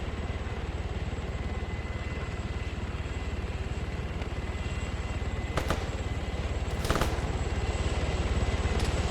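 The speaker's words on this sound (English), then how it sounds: "Chopper's now coming in." A military helicopter flies in during an Arma battle, its steady rotor chop and engine drone loud and continuous with no voices over it.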